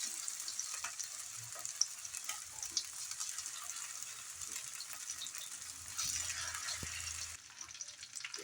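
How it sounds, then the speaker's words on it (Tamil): Marinated fish frying in hot oil in a kadai, a faint, steady sizzle that runs continuously at close range, with no voices. "எண்ணெய் ஊற்றிட்டு நம்ம இப்போ ஃபிஷ்ஷை ஃப்ரை பண்ணி எடுத்துக்கலாம்"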